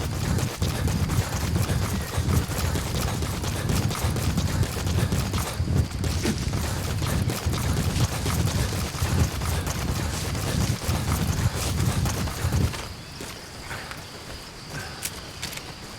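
Donkey hoofsteps in Metal Gear Solid V: The Phantom Pain on PC: a steady run of clopping footfalls within dense ambient game noise, continuing for most of the stretch before the scene drops abruptly quieter near the end.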